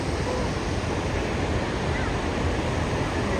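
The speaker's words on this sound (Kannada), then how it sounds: "ಇಲ್ಲಿ ಎಲ್ಲೋ ಫಾಲ್ಸ್, ಚಿಕ್ಕದಾಗಿ ಫಾಲ್ಸ್ ಬರ್ತಾ ಇದೆ." Waterfall at Gaganachukki–Bharachukki, a steady broadband roar of falling water heard from a distance, continuous and even with no breaks.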